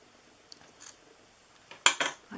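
Scissors snip red decoration for a handmade Christmas gift box, a few soft, sparse cuts followed by two sharper, louder snips close up, with no talking.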